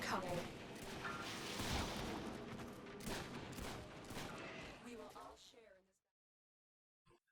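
Twin Grakata pistols in the video game Warframe fire continuously, a dense, steady stream of rapid shots that runs for about six seconds, then cuts off into silence.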